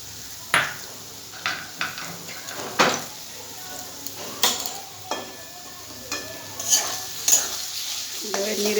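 A spoon stirs taro leaf curry with crushed peanuts in a pan, giving repeated scraping clinks at an uneven rhythm over a low sizzle, with faint talk in the background.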